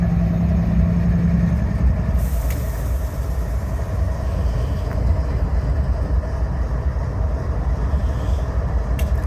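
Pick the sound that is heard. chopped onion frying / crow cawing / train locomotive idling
train locomotive idling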